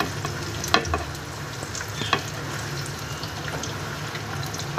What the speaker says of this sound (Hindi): इनको हम फ्राई करेंगे जब तक ये अपना कलर चेंज ना कर दें